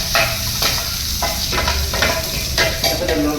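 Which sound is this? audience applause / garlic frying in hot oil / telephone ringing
garlic frying in hot oil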